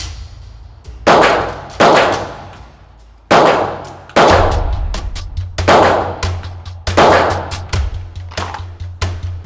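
A police-issue SIG Sauer P320 pistol fires about seven loud, sharp shots in an uneven sequence, each crack followed by a ringing decay and some metallic clang, with no talking.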